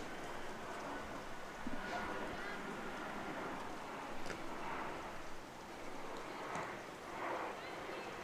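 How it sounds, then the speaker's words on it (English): Heavy rain falls without wind at an outdoor girls' varsity soccer game, a soft, steady hiss that holds at an even, fairly faint level throughout. "It's a lot of rain, but no wind."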